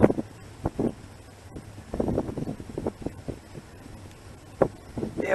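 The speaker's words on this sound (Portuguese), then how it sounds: "vocês não imaginam o vento está aqui" Strong wind buffets a lookout tower, gusting in irregular bursts that thump and roar against the microphone, rising and falling over a faint low hum, with no speech.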